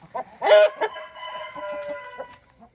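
Hens cluck and a rooster crows loudly and close by in a farmyard poultry house where eggs are gathered from nesting boxes, with short clucks before and after the drawn-out crow.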